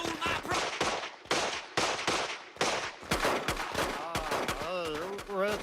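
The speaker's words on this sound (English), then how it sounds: "Some varmints are having a shootout." Shootout gunshots in a Simpsons cartoon scene, several sharp bangs in quick irregular bursts, loud and close, followed by a denser volley mixed with voices and whistling.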